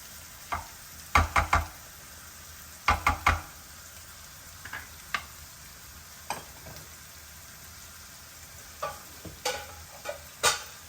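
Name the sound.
carrots cooking in oil in a pan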